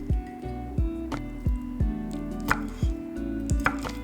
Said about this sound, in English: I'm chopping half of the prawns into small chunks